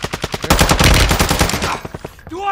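Rapid bursts of automatic gunfire in Call of Duty Warzone, a dense close rattling volley that tapers off, followed by a brief rising electronic tone at the end.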